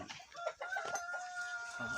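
Several chickens, including Rhode Island Reds and Black Australorps, cluck and call close by on a farm in Liloan, Cebu, with a drawn-out crow-like note running through the middle, no talking.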